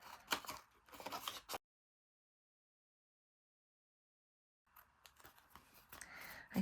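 Scissors snip around the edge of a paint chip tag for a junk journal, a few close, quiet crisp cuts, then a long silence before more soft snipping and handling.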